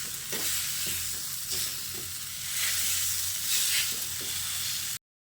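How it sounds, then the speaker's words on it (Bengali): Four boiled potatoes mashed with a hand masher in a pan, giving a run of soft, rhythmic pressing thumps over a steady wet hiss, close by and with no voices. "তারপর এরকম একটা ম্যাশারের সাহায্যে আলুটাকে এইভাবে ম্যাশ করে দিচ্ছি"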